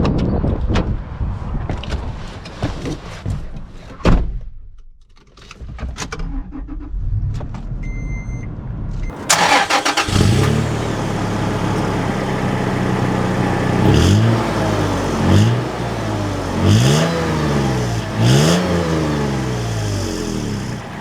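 A Toyota FJ Cruiser starts up and pulls away, its mid-pitched engine revving and shifting through repeated acceleration sweeps after quieter mechanical handling and clicks.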